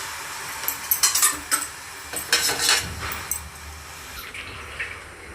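Fresh chhena curds for Odia rasgulla, wrapped in white cloth and washed in cold water, give close, intermittent splashing and wet squelching with a few dish clinks. No one speaks.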